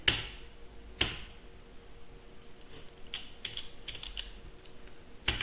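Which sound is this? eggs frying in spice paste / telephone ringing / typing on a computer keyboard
typing on a computer keyboard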